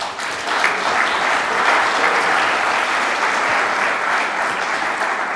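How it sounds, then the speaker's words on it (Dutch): A conference audience at the Nationaal Congres Open Data 2013 in Eindhoven applauds the organisers with full, sustained clapping that stays even and loud from start to finish. "Een hartelijk applaus voor de organisatie alsjeblieft."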